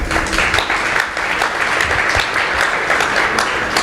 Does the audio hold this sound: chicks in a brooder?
no